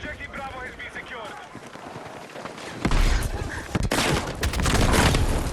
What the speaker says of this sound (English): the grenade launcher that close